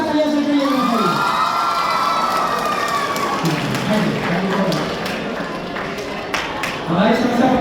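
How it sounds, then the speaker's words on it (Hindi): Seminar audience in Butwal, Nepal cheering and whooping loudly after a dance, with shouting voices and some clapping, close and continuous throughout. "जोरदार तालियां बज रही है"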